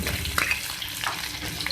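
Onions frying in a pan with ginger garlic paste for beef tikka macaroni, a short stretch of soft sizzling with stirring scrapes and light clatter, moderately quiet and close.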